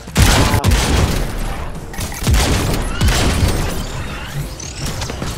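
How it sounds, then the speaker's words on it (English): Shots fired from guns at robots in the VR game Robo Recall: a loud, busy stretch of repeated blasts and booms with clattering mechanical hits, continuous and dense throughout. "Now I can shoot them."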